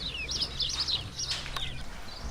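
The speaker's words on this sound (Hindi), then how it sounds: "जो इनके पास है ना एग लेइंग मुर्गियाँ, वो दिखाएं आपको जो अंडे दे रही हो" Egg-laying hens in a dim farm coop give a steady stream of high, thin chirps and squeaky calls, fairly close and overlapping, with no talking.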